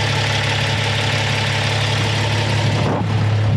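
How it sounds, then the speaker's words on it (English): A new twin-cylinder air compressor running in a shop, a loud steady mechanical drone with a constant low hum and rapid pulsing throughout, with a brief shift near the end and no voices. "New air compressor."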